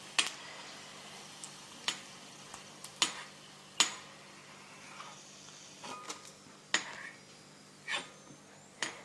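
Whole coriander seeds fry in hot oil, giving off faint, irregular crackles and sharp pops over a quiet sizzle, with no voices.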